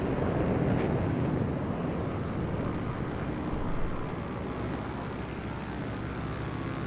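A propeller airplane engine drones in a flight simulator game, a loud steady broadband rumble throughout that eases slightly after a few seconds, with no speech.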